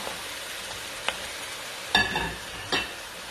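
Beef being stir-fried for Chinese beef noodle soup, a low steady sizzle in the pan broken by a few sharp stirring scrapes and clatters, close and fairly quiet, with no talking.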